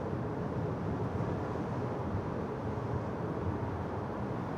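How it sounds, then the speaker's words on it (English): Wind noise inside a moving 2022 Volkswagen Taos SEL on a windy day, a steady low broadband rush of wind and road sound that holds constant throughout with no talking. "I hear a little bit of wind noise"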